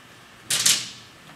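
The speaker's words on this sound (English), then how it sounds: "Let me get a good eraser. So maybe I'll erase this." A felt eraser wipes writing off a board in a short scrubbing burst of strokes lasting under half a second, close and fairly loud, with no talking.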